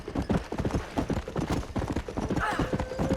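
Horse hooves clip-clop at a steady trot in the video game Red Dead Redemption, a brisk, even rhythm of hollow thuds that is close and continuous, with a brief whinny near the end.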